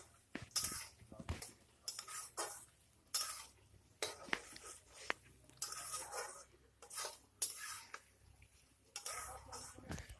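A spoon scrapes and clinks against a pan while cooked bottle gourd with mung dal is mixed, giving repeated short metallic knocks and scrapes at close range with no speech.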